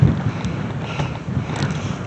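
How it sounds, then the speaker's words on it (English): Gusty wind buffeting the microphone outdoors at a log deck build site, a steady low rumble with a few stronger surges and no voices. "Windy."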